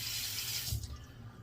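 A razor is rinsed under running water in a sink, a brief, steady rush of tap water that splashes and then tapers off, heard close and alone.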